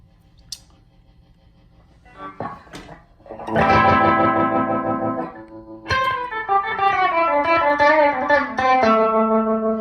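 Sustained electric guitar chords pulse with a very fast, fluttering tremolo from a Walrus Audio Monument pedal, layered with a slower wavering modulation and some reverb.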